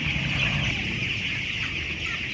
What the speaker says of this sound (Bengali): ব্রয়লার মুরগির খামারে